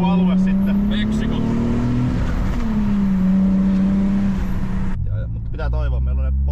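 A car with a prechamber diesel engine revs loudly in a steady, droning run that rises and falls, then cuts off abruptly near the end while people talk over it.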